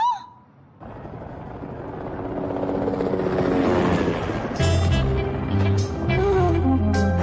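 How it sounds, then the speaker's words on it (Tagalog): A helicopter flies in the Detective Conan anime, its loud, steady rotor roar building over several seconds and then continuing with a deeper throbbing drone, heard without speech. "Madalas siyang gumamit ng helicopter sa pagtakas."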